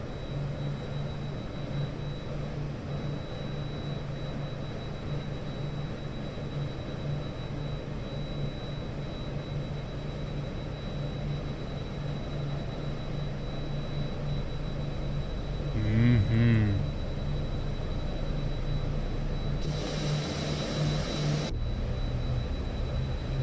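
Turboprop aircraft engine in the X-Plane flight simulator spooling up, a steady droning whine with a constant high tone that swells near the end, with brief bursts of noise and no talk.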